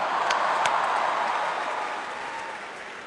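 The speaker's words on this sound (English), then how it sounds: "Can we have a huge round of applause for my opening act" A large comedy roast audience applauds and cheers in a broad, steady wash of clapping that swells at first and then slowly tapers off, with no one speaking over it.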